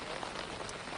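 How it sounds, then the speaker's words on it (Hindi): Heavy rain pours down during Cyclone Nisarga, a dense, steady, loud hiss of drops striking surfaces with no pause. "इस मूसलाधार बारिश के शोर में आप समझ सकते हैं किस तरीके से निसर्ग तूफान"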